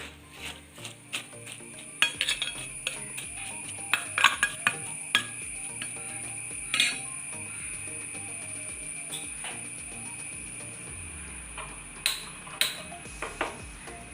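Taro leaf curry is stirred in a pot with a spoon. Light clinks and scrapes repeat unevenly against a steady faint background hiss.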